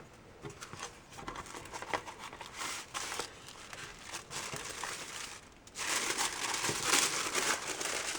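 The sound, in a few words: opening a paper envelope from a coin subscription box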